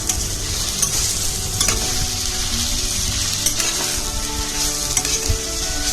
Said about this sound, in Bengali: আমি এবার সেদ্ধ করে রাখা শাকটা দিয়ে দেব দিয়ে ভালোভাবে নাড়তে থাকবো